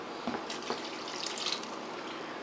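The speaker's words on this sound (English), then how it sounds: "I might add a cup of water as well." A cup of water poured into a pot of beef stew with wine makes a soft, steady liquid rush, with a few splashy gurgles near the start and middle, close and fairly quiet.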